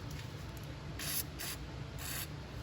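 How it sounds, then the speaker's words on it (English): Lubricating spray hisses onto the belt pulley of an old Toro Personal Pace self-propelled mower in three short, faint bursts against quiet background. "Let's hit this with some"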